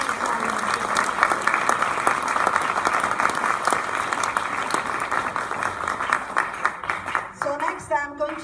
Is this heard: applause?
yes